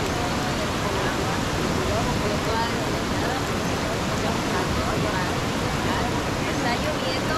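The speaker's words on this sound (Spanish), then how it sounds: "Este es el río de San Miguel." The San Miguel river in Jalisco, swollen to flood after Hurricane Lidia, gives a steady, loud, broadband roar of rushing water that holds unbroken from start to finish.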